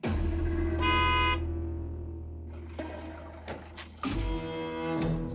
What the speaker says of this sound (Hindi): क्या बे, ये क्या हॉर्न बजा रहा बार बार?